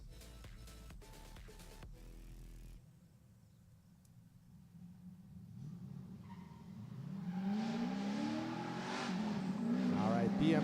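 A BMW drift car on track leading a chase car, engine note rising from quiet to a loud revving whine with some tire noise toward the end, a commentator talking early on.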